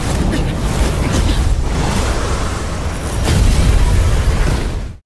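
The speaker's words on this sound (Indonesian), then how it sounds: "sebelum akhirnya benar-benar meledakkan pilar tersebut di depan mata semua" An animated martial-arts pillar explodes in a sustained, loud rumbling blast with heavy low-end roar, swelling stronger toward the end before cutting off abruptly.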